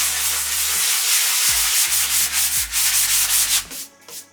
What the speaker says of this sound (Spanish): Para quitarle este acartonamiento tenemos que pasarle la lija.